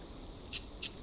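Garden scissors in the video game City Legends 2 give two crisp metallic snips about a third of a second apart, clear over a quiet hum.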